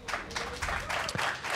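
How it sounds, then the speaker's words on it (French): Audience applause greets two Street Fighter V players at a Showdown tournament match, a steady wash of clapping from a crowd with faint crowd noise throughout. "on peut les applaudir"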